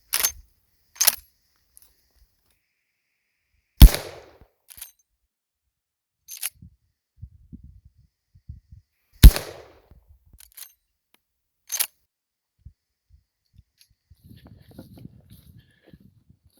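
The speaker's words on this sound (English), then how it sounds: "This is going to be 4 shots, 2 into steel, 1 into each steel apiece, and then 2 in the center mass in the B27 target" Four sharp gunshots from a custom Marlin 1895G Guide Gun lever-action rifle at 25 yards, two aimed at steel targets, crack out at irregular intervals with quiet handling noises and lever clicks between.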